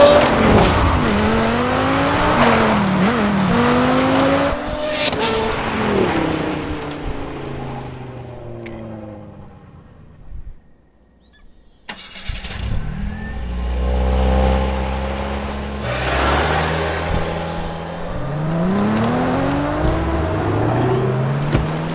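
Racing car engines rev and whine up and down with tire squeals in the video game Forza Horizon 5, fade to near silence, then roar back in loudly.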